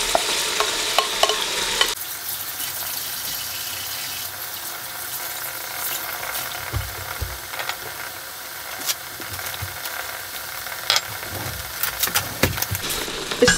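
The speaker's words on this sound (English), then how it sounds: "Next we're going to add in our green peppers." Green peppers go into a frying ayamase (ofada) stew and get stirred: steady sizzling frying noise with scraping stir strokes and clinks throughout, close and continuous, no talking.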